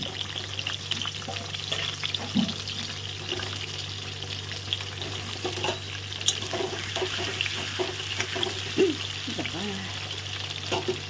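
Onions frying in hot oil in a kitchen pan make a continuous low sizzle with occasional stirring clatter and a steady hum underneath, moderately close.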